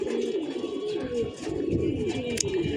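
Young pigeons coo on a rooftop, low throaty rolling calls overlapping steadily and close by, with a faint murmur of background noise and one brief sharp click near the end.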